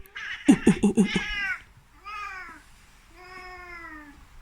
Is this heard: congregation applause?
no